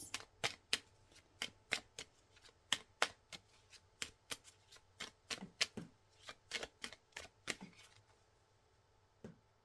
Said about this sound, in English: I'm going to pull some of my Druid cards here to get some more tangible, practical advice